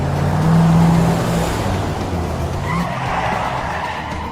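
A car skids and screeches to a halt, a loud sustained tire squeal followed by a rough rumble of the car as it stops, heard alone without talk.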